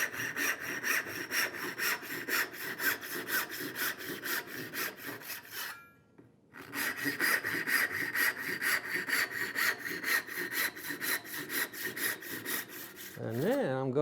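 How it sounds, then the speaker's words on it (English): A hand saw cuts dovetail angles in wood with steady, rhythmic back-and-forth rasping strokes, close and clear, pausing briefly midway before resuming. "I'm going to cut some angles on here."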